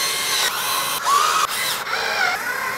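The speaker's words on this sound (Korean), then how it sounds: "메인보드를 넣게 되면 나사를 모두 연결해줘야 돼요" Screws driven into a PC motherboard during a gaming desktop build, heard as a close whirring electric screwdriver in short repeated bursts that rise and fall in pitch, with no talking.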